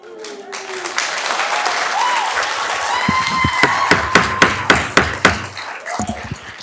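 Audience members in city council chambers applaud amid a gavel knocking several sharp raps, with rising tonal sounds and voices mixed in, the raps growing louder before fading.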